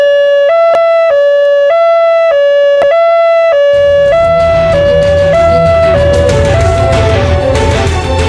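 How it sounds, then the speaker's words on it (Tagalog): Loud two-tone ambulance siren wailing in a steady alternating pattern, joined partway through by a heavy rumbling engine and road noise as the vehicle draws near. "Paingon na din ang ambulansya."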